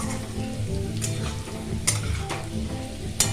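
Poppy seeds frying in mustard oil for Bengali aloo posto, a steady close sizzle with a few sharp stirring scrapes and clicks against the pan.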